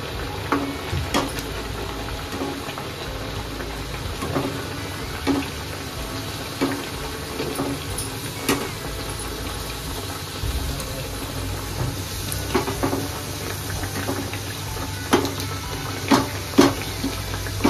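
Maharashtrian gharge deep-fry in oil with a constant, fairly loud bubbling sizzle, dotted throughout with scattered sharp pops and spits.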